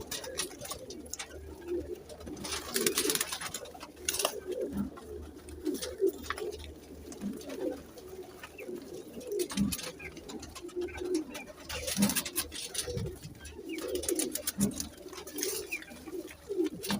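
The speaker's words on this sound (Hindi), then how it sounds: "ये अच्छे उड़ने वाले कबूतर हैं।" Flying pigeons cooing up close, soft repeated throaty coos rising and falling at an irregular pace, with light fluttering and scratching sounds between them.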